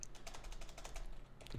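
Rapid, steady keystrokes from typing code on a computer keyboard, close and moderately quiet, with no talking.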